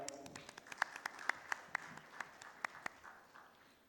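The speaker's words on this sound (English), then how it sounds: "So big round of applause for you guys as well" A small audience applauds at the FICCI FRAMES 2023 inaugural session, sparse and faint, with about a dozen distinct, separate hand claps scattered over a few seconds before fading out.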